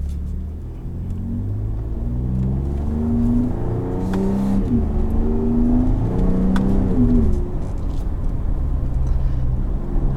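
A 2019 Ford F-150 Raptor truck driven in manual mode with paddle shifters: steady engine drone rising through gears with two quick shift breaks, loud and close inside the cabin, no talk.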